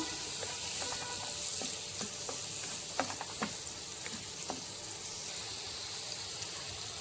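Mango pieces sauté quietly in ghee, giving a soft, steady sizzle with a few sharp scraping clicks from a spatula stirring the pan, heard up close with no talking.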